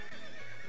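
A horse in the game Horse Haven World Adventures gives a short, clear neigh, loud and close, heard alone.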